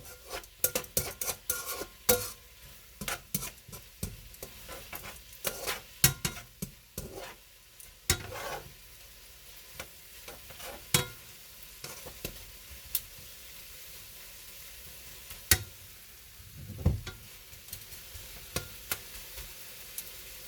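Shrimp and vegetables stir-frying in a wok, with a steady sizzle under repeated sharp clanks and scrapes of a utensil against the metal, loud at first and thinning out later, with no talk.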